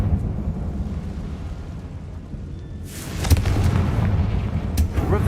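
A Confringo blasting spell explodes in a Harry Potter video game: a low rumbling build gives way to a loud, broad burst with crackling debris, followed by a second sharp blast near the end.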